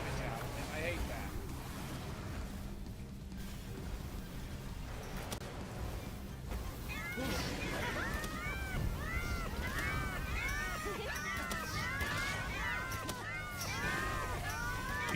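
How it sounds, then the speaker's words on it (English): Repeated high, sweeping cat-like meows from Pals in the creature-collecting game Palworld, chirping over one another in the second half amid steady game sound and background noise. "You know the situation's bad when the cat noises begin"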